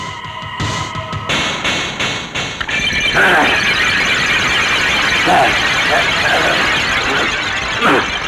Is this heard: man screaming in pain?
yes